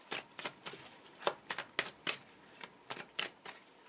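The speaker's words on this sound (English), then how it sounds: "Well, okay, I'll shuffle." A deck of tarot cards is shuffled by hand in repeated quick riffling bursts, close and crisp, with no voices.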